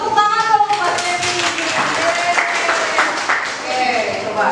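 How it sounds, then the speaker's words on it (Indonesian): Classmates clap for a student called to the front of the class, brisk scattered clapping under children's voices and chatter. "Tepuk tangan dong buat Kenny."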